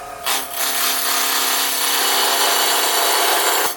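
A wood lathe spins at about 2000 RPM as a tool cuts a tippy top blank, producing a loud continuous high scraping whir with a steady motor tone and no talking.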